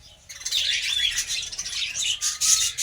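A colony of budgerigars in an aviary, a loud close flock of overlapping squawks, chirps and chatter, bursting in after a brief quiet start and continuing busily, with no talk.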